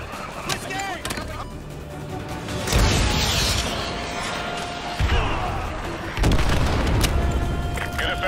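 Call of Duty MW2 AGM missiles strike a BTR armored vehicle, heard as repeated heavy booming explosions with rumbling tails, loud and close, mixed with game sounds and brief radio-style voices.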